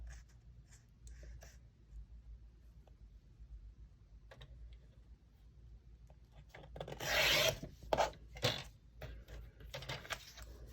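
Paper cardstock being trimmed on a card-making craft board, a faint scratchy cut at first, then a louder close rasping slide of the blade through the paper near the end, no voices.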